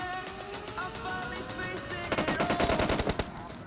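Rapid automatic gunfire in the mobile shooter PUBG Mobile Lite, first a stretch of continuous fire, then a louder burst of distinct rhythmic shots, over game background music.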